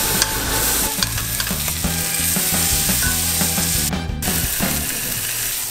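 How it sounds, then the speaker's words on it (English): Pork tenderloin sears in grapeseed oil in a cast iron pan, a steady loud sizzle and crackle with scraping and clinking of a utensil against the metal, and no voices over it. "We're gonna sear this on all 4 sides for about 2 minutes."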